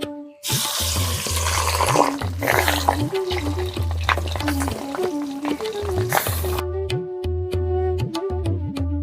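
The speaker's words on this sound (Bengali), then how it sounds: "তেল গরম হয়ে গেছে, এবার মাছের ডিম দিয়ে দেব।" Katla fish roe hits hot oil in a pan, setting off a loud, continuous sizzling hiss for several seconds before it cuts out, with music playing throughout.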